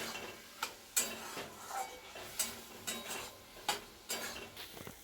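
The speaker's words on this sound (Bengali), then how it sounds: "একটু মশলা দিয়ে দেবো, দিয়ে কষতে থাকবো" Snail curry with spices is stirred in a pan, with a spoon scraping and clinking against the metal in a loose rhythm over a faint sizzle, close and quiet, with no talk.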